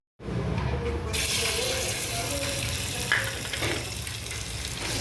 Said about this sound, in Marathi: 1 वाटी खवा घेतलाय, ते आता आपण थोडंसं गरम करून घेऊया तूप घालून।